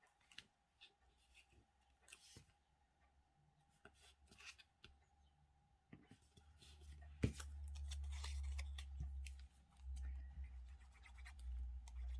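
Scissors snip through paper, cutting out small rectangles for a pop-up card, heard as a quiet run of scattered crisp snips and scratches that turn into louder, steadier rubbing toward the end, with no talk.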